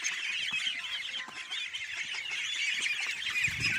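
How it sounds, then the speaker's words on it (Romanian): A crowd of poultry clucks and squawks continuously, a dense, busy chatter of chickens and other fowl. "Luisa are purcei de vânzare, găini, păsări"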